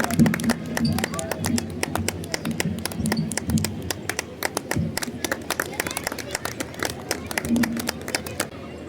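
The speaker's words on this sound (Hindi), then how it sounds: "तालियों के साथ तो आप स्वागत कर ही सकते हैं" An outdoor audience at the Pusa Krishi Haat Sharad Utsav fair claps in welcome, a patter of many hands running steadily throughout while a voice speaks over the opening seconds.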